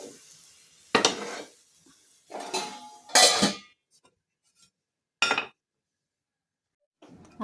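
Metal cooking pots are lifted and set down on another stove while making litti chokha, producing several separate clanks and scrapes spaced a second or two apart, with quiet gaps between them and no talking.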